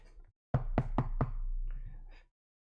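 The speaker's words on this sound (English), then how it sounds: "And with that you hear a knock." Four sharp knocks strike a door in quick succession, close and clear, and a low rumble continues beneath them.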